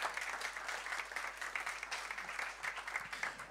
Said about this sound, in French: j'aimerais entendre un grand applaudissement à ceux qui croient que Dieu va agir dans ces temps